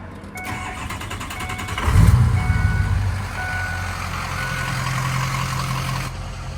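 A truck engine cranks over and catches, then settles into a steady, close idle with a low rumble that continues to the end, with faint beeping tones running through it.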